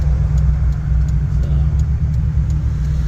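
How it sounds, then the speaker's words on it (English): A 1995 Toyota Celica GT with a swapped engine and coilovers drives along, its steady low engine rumble and road noise loud and continuous from inside the cabin. "Take you for a little bit of a drive in the car."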